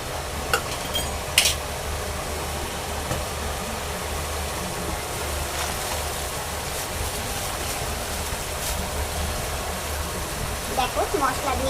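Spices frying in oil for a vegetarian curry, a continuous close sizzle with occasional sharp clinks and scrapes of stirring, steady throughout.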